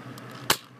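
A Nerf gun fires a dart into a blanket with a single sharp pop, close and loud, after a few faint clicks.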